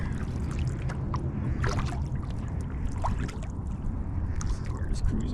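Eddyline Sitka LT kayak gliding through shallow water about a foot deep, with steady close-up water wash and occasional paddle splashes and drips, under a voice talking.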